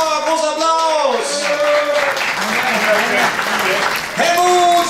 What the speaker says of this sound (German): Großer Applaus für Klaus!